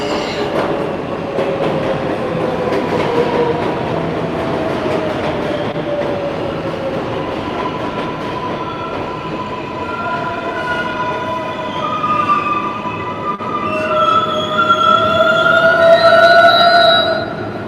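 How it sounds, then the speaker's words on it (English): A New York City subway 7 train pulls into a platform toward Hudson Yards, a steady loud rumble and rail screech that grows, with high squealing tones building near the end as it arrives. "And the 7 is coming down right now towards Hudson Yards."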